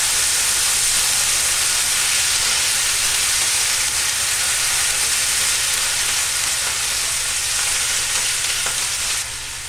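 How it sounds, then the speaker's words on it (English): Aubergine and peppers frying in a pan with chopped tomatoes for a chutney, a loud, constant dense sizzle and hiss that runs unbroken for the whole stretch and ends abruptly. "Give them a chance to fry through for a little bit before we start adding the rest of the stuff."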